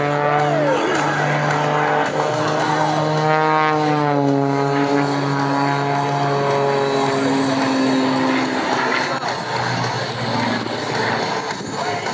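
A small propeller airplane flies aerobatic maneuvers at an air show in New Hampshire, its engine droning loudly, the pitch swooping up and down as it climbs, tumbles and loops overhead.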